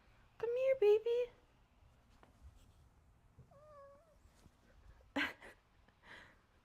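A cat meows a few times near the start, with a short higher cry later, while a person talks intermittently nearby.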